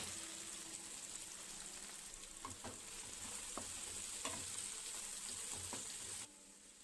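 Cucumber, tomato and green chilli pieces fry in a pan for a cucumber chutney, giving a continuous bright sizzle with occasional stirring scrapes and taps, close, until the sound cuts off sharply near the end.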